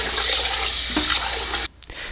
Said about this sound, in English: I'm going to go ahead and rinse my rice about 3 times.